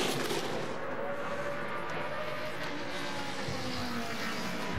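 NASCAR stock cars race around Bristol Motor Speedway's short oval at the 2010 Saturday Night Showdown, a dense, continuous engine roar that stays loud and steady throughout with no voices.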